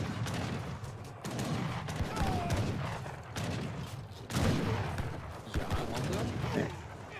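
Musket volleys from Janissaries in an Age of Empires battle, repeated crackling bursts of gunfire at moderate level under ongoing commentary.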